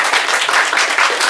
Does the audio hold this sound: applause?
yes